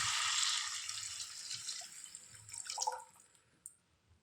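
Water poured into a cooking pan to boil for semolina, a steady splashing pour that runs for about two seconds, then fades to a few soft drips and trickles.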